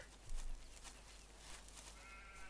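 Sheep bleating in Farming Simulator 2017, a brief bleat near the start over a steady background hum, faint and alone without talk.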